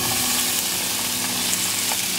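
Cubes fry in coconut oil in a skillet with a loud, dense, continuous sizzle that holds steady and close throughout, with no talking.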